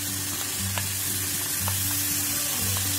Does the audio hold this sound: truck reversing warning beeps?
no